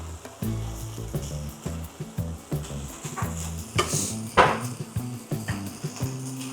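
Onions sizzle in a pan beside a beef smash burger patty, a steady frying hiss with a few louder crackling bursts over constant background music.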